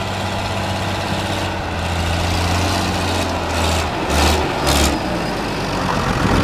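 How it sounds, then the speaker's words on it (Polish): A heavy diesel engine of a Renault 981.4 tractor runs steadily nearby in a field with a low throbbing hum, rising briefly as it revs. "posłuchać właśnie dźwięku tutaj tego ciągnika"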